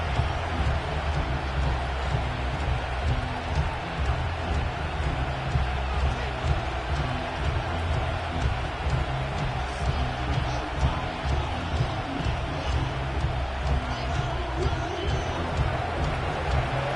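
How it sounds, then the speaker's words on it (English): A large stadium crowd roars continuously in an NFL football video game before kickoff, a dense, steady wash of distant cheering and babble that holds level throughout with no pauses. "The crowd is definitely ready."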